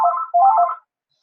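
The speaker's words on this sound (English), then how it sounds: "that's my phone ringing for the moment" A mobile phone ringtone plays two short electronic trill bursts, close and clear, then stops into silence.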